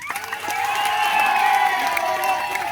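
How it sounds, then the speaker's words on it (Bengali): A crowd at a football league final prize-giving ceremony, where the trophy, cheque and medals are presented, claps and cheers loudly and continuously, with shouts and whoops mixed into a dense, sustained roar. "এই জোরে একটা তালি হবে।"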